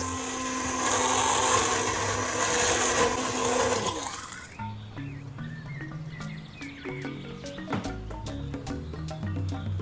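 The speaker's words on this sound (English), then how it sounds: "I used my hand blender for easy use" A hand blender whirs loudly for about four seconds blending butter chicken gravy with warm water, then stops, leaving clinks and scraping sounds from kitchen utensils.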